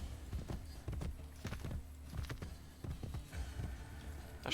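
Horse hooves clip-clopping at a steady trot in the video game Assassin's Creed Brotherhood, quiet and close, over a faint background murmur.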